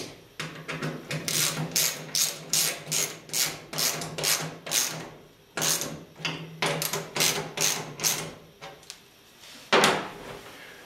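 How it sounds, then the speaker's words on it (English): Rapid bursts of ratcheting from a 10mm socket wrench driving a bolt during welding cabinet cart assembly, coming in quick rhythmic runs with short pauses between, close and fairly loud, with no talking. "A 10mm socket."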